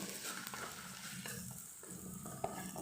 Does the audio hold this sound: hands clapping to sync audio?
no